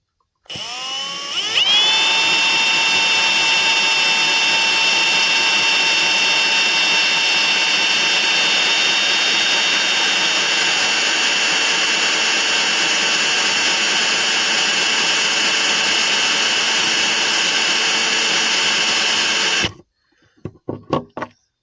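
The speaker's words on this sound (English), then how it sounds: "So now we need to drill some more holes." A power drill whines loudly and continuously at high speed for about eighteen seconds drilling holes in thick camper fiberglass, then cuts off, followed by a few short bursts.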